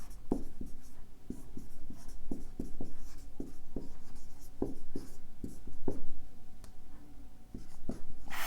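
A pen writes a line on paper in a Hindi coaching class: soft, rhythmic scratching strokes and taps repeat steadily, close and quiet.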